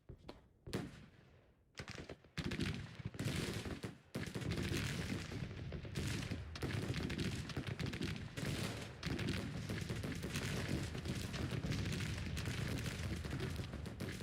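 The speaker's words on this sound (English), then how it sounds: "Looks like we got some buckshot or grape shot being fired by the cannons on the right." Cannons fire grapeshot in the Civil War strategy game Grand Tactician, a dense, sustained roar of booming volleys and crackling shots after a few sparse opening blasts, loud and continuous with no talk.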